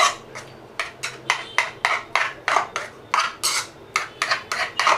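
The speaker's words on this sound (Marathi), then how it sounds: "हे सगळं मी आता स्मॅश करून घेतलेलं आहे" Soft roasted brinjal is mashed for Maharashtrian bharit, with about fourteen quick, sharp scraping and tapping strikes of a utensil against a bowl in an uneven steady rhythm, close and fairly loud.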